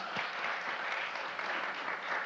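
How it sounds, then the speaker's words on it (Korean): An audience at a traditional Korean dance performance at a festival applauds, giving steady, even clapping from a sizable crowd that fills the whole stretch at moderate volume with no speech. "다시 한번 멋진 공연을 보여주신 우리 아트 커넥트 팀에게 여러분의 뜨거운 박수 보내주시기 바랍니다"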